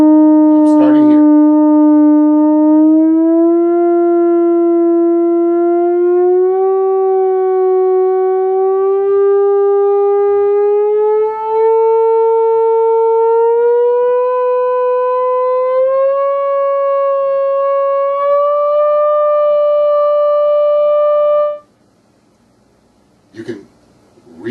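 A theremin sustains one continuous tone that steps upward gradually through a pitch-matching sequence, smooth and vibrato-tinged, loud and close, then stops abruptly near the end.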